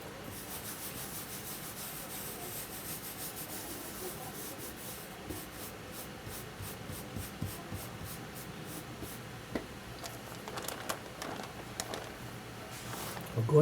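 A hand carving tool scrapes and cuts into a plywood woodblock for printmaking, producing quiet, close rubbing strokes with small rhythmic scratches and a few sharper clicks toward the end.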